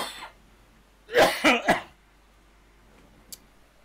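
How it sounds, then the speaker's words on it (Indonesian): Three quick coughs from one person in a quiet room during a live webinar, close and fairly loud, followed by silence and a faint click. "Batuk ah."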